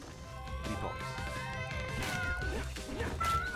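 In the video game Zombie Vikings, a cartoon cat meows in short, whiny cries amid thumping game effects and background music, heard up close over a busy in-game soundscape.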